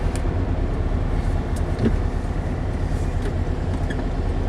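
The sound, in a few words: 1965 Porsche 356C engine idling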